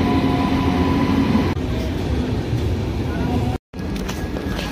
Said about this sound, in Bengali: বলতে পারো এটা আমাদের ভারতবর্ষের বুলেট ট্রেন